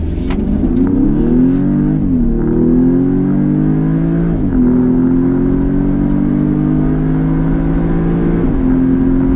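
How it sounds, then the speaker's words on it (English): A 2019 Audi S3 accelerates at full throttle from inside the cabin, its engine note climbing steadily through several gear changes in a loud, continuous pull with no talking. "I'm gonna go ahead and floor it coming out of here"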